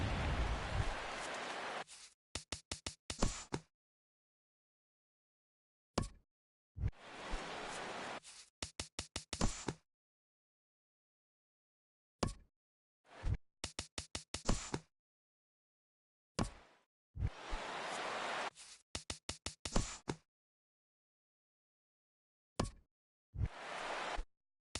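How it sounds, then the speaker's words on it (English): Rain falling in the MLB The Show 17 baseball video game, heard in repeated bursts of steady hiss with brief crackling patter, cutting in and out with silent gaps between. "Rain continues to fall here in the 6th."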